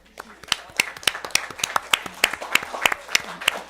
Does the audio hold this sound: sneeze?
no